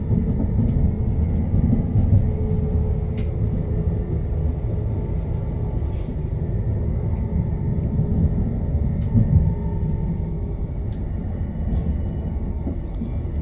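Train pulling into Preston station on the West Coast Main Line, a continuous low rumble of wheels and carriage noise from on board with occasional faint clicks and squeals, no speech.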